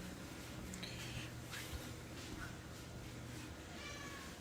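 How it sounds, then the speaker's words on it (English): A cat meows at a door during snowy weather, giving a few faint, drawn-out calls against a steady background hiss. "Ashes, of course, Ashes meowing at the door."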